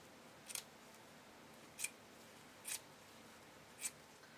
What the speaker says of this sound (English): I'm going to trim back all of this excess fabric.